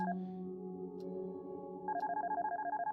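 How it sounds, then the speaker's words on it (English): A telephone rings in the horror video game Darkness Within, starting with a steady electronic tone, then shifting into a rapid, pulsing ring at close range with no talk over it. "Will you answer the phone?"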